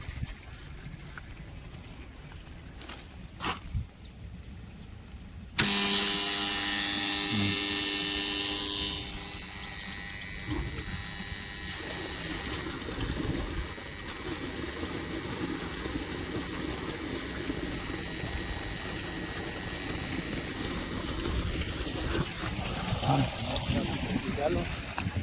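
Water and air burst out of an opened valve on a farm irrigation pipe in a loud, steady rushing hiss that starts abruptly and keeps going, close by. Talk is heard before it begins.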